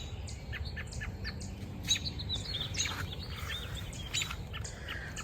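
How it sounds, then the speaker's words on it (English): Songbirds call and twitter in an early-morning hosta garden, giving frequent short chirps at a moderate distance over low ambient noise, with no voices. "so you can hear the birds chirping sound"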